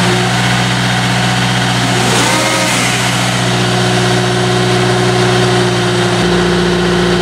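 Large-scale RC Caterpillar 242D skid steer running under throttle, its motor holding a steady droning tone with a brief rise in the middle and a sharp drop in pitch near the end, loud and close with no talk.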